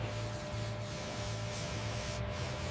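A paint spray gun lays a sealer coat on a Ford Mustang, a faint, steady hiss with a low pulsing hum beneath it and no voices.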